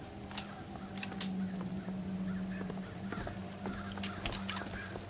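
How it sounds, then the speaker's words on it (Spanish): Crows caw in the video game BioShock Infinite, giving scattered harsh calls and sharp clicks over a droning background hum. The calls are moderately loud, and no one speaks. "Me mola lo de los cuervos."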